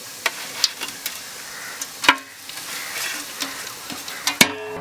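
Fennel, cinnamon, cardamom and cloves frying in hot oil crackle in a quiet background sizzle, with scattered sharp pops and ticks and a dense burst of crackling near the end.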